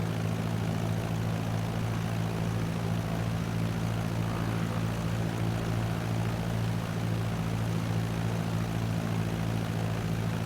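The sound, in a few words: propeller aircraft engine throttled up in a flight simulator video game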